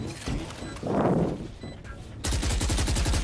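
Rapid automatic gunfire in Valorant, including Odin fire, shooting through walls: bursts of close, loud shots, a brief muffled stretch, then a sustained fast rattling stream of shots at the end.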